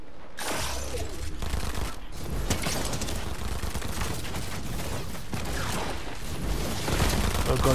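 Rapid gunfire bursts in a Fortnite boss fight during the Doom Island event, dense and continuous with clattering weapon mechanics throughout, loud and close, with only faint voices underneath.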